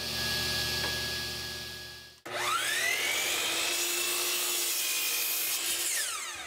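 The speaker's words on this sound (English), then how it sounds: "I'm going to cut those down to a uniform 3/4 inch square for the legs" A power saw rips wood pieces down to 3/4-inch square legs for a folding light stand, a steady loud whine that cuts out briefly, then surges back with the blade biting into the wood, close and continuous.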